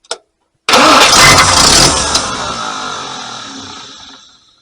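A Packard 327 straight-eight engine with a four-barrel carburetor gives a brief click, pauses, then roars loudly and close as it cranks and catches, with the roar tapering off over several seconds.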